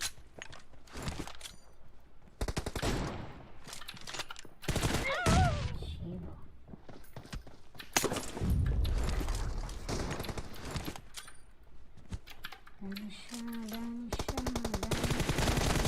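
Gunfire rattles through a PUBG team deathmatch in repeated bursts and volleys, mixed with game voice callouts, footsteps and mechanical clicks, at a steady, busy level.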